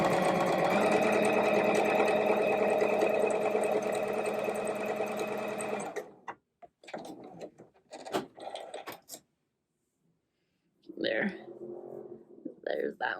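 A sewing machine runs steadily for about six seconds, stitching stretch fabric with a triple stitch, then stops; afterward come soft handling clicks and rustles, and someone talks quietly.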